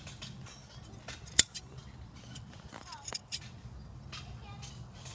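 Hand shears snip through a sheep's wool in a few sharp, close metallic clicks with soft rustling between, and a person talks over the cutting.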